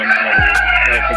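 Backyard chickens, a rooster crowing loudly and close alongside clucking hens, with a low hum underneath.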